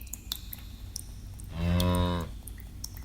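A cow gives one long, deep moo lasting under a second, close and fairly loud, set against quiet background rustling with no talking.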